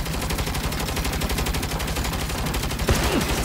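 Rapid turret gunfire in Saints Row, a loud continuous stream of evenly spaced shots hammering away, with a brief sharp ricochet-like sweep near the end.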